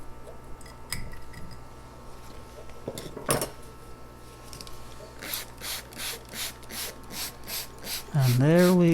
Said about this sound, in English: I'll take the ball on the end of the spoon to push in the soil.